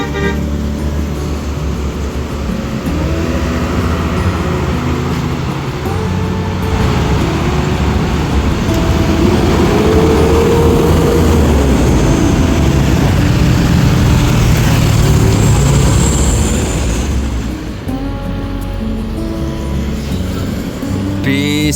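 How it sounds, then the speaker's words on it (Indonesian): A bus pulls into Terminal Yomani in the morning, its engine rumbling loud and close amid roadway traffic, with a horn toot and a voice talking over the noise. "Nah ini bis Godwill masuk di Terminal Yomani jam setengah 9:07"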